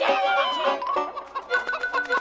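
Rhode Island Red chickens on a cartoon farm cluck and squawk in a busy close-up chorus of short, choppy bursts, with no talking.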